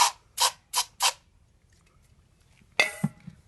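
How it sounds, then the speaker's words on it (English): Four quick, sharp hisses of non-flammable aerosol brake cleaner sprayed into a cup, a pause, then one longer spray burst, close and crisp against near silence. "I'm going to spray it in the cup."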